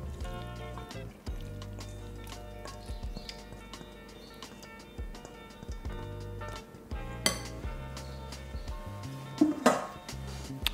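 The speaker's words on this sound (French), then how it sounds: "Je remue un petit peu." A utensil stirs mushrooms in a pan for a chicken, mushroom and bacon terrine, giving soft scrapes and intermittent metallic clinks, louder near the end, over a faint steady tonal background.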